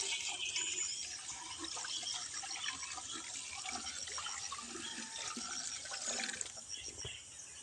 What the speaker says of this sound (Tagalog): Lagyan muna natin ng tubig.